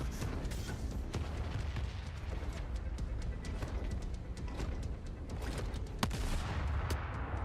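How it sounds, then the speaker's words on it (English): Rockets fire in The Forever Winter video game, a dense, continuous barrage of booms and blasts with sharp cracks scattered throughout and a stronger burst near the end, no voices. "Those are rockets."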